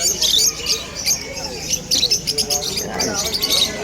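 Small pet birds chirping and tweeting in quick, overlapping bursts at a busy pet market in Malabon, with crowd chatter and background voices running underneath throughout.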